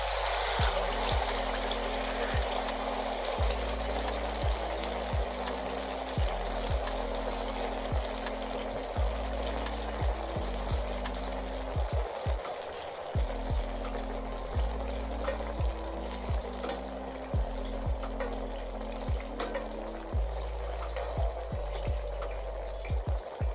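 Fish frying in hot oil, a steady soft sizzle and crackle with a sharp hiss on top, low level and unbroken, no voices over it.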